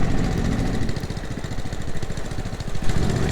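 Tractor engine in Farming Simulator 22 runs at a steady, loud, throbbing idle with a rapid rhythmic chug and no voices.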